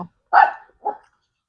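A dog gives two short, sharp barks close by, with brief silence between and after them and no other sound around.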